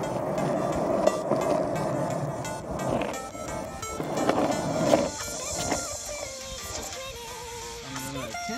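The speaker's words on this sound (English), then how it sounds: "I'm gonna attempt to ride down the road." Skateboard wheels roll down a paved road in a steady, fairly faint rumble, broken by occasional clacks and bumps.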